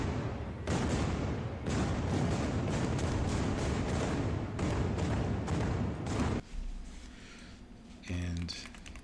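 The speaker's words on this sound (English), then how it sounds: "they just let rip with your port side cannons" Port side ship cannons fire in a dense, rolling barrage of booming thuds and rumbles for several seconds, then give way to quieter knocks and a brief rattling burst at the end.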